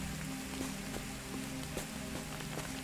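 Rain falls continuously in the survival game Soulmask, a steady dense patter of drops on surfaces with faint tapping accents, heard alone at low volume under a low ambient hum.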